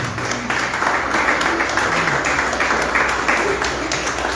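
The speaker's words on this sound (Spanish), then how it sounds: "Dale un fuerte aplauso" Sustained applause from a church congregation praising God during a worship service, a dense steady wash of clapping that fills the whole moment at even loudness.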